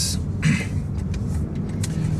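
Steady low road rumble and engine drone from inside a 2018 Lexus RX450h F-Sport AWD hybrid SUV cruising on a highway, with faint hissing air noise above.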